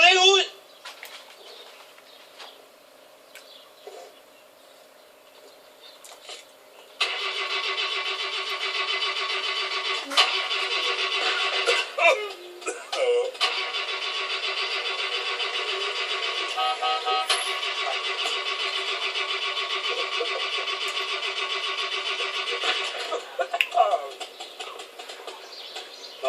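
A car engine is cranked over and over: a brief start attempt, a lull, then a long, loud whirring crank that stutters and breaks off a couple of times before dying away.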